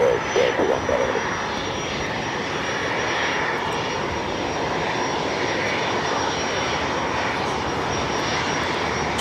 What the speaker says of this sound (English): Just had the British Airways 777-300ER coming in from London Heathrow, flight 281.